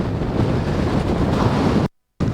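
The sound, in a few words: wind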